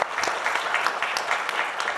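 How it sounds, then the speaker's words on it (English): Steady, moderately loud clapping from a forum audience, a dense patter of many hands that keeps going without talk over it. "Could we give her a warm round of applause?"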